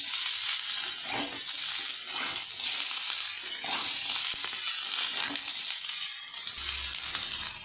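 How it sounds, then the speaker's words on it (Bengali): Green chilli and chopped onion frying in hot oil for a fish curry, stirred continuously; a dense, close sizzle with rhythmic scraping strokes throughout, no talking. "কাঁচা লঙ্কা আর পেঁয়াজ কুচি দিয়ে দেবো আমি ভালো করে নাড়াচাড়া করে নেবো"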